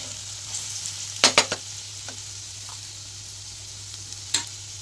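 Turmeric being stirred in a frying pan, with a soft continuous sizzle under a few sharp scraping clinks of the spoon against the pan, close and fairly quiet.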